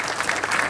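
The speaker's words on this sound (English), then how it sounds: "Big round of applause for Mark, ladies and gentlemen, is our new head of operations." Audience applause greets a newly announced head of operations at a club draw evening with owners and manager, a dense, steady wash of clapping throughout with no voices on top.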